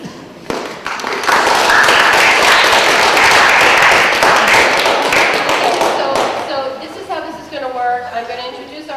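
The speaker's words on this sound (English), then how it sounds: "You can clap, it's okay." An audience at a panel discussion on race, class and gender in Berkshires sports breaks into a loud burst of steady applause lasting several seconds, then tapers off as a voice begins speaking.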